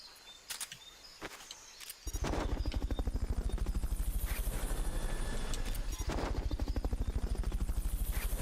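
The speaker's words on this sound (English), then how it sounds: "Fulton recovery helicopter is complete." A Fulton recovery helicopter in Metal Gear Solid: Peace Walker starts with a few sharp clicks, then its rotor chops in on a loud, steady, fast throbbing beat that continues to the end.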